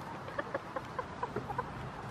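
Chickens clucking at a farm animal sanctuary, a series of short, fairly close clucks at an even pace over a soft outdoor background, with no talking.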